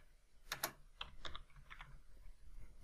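Keys on a computer keyboard are tapped in short quiet bursts of a few clicks each, close and faint, as a message is typed into a PowerPoint countdown timer, with no voices.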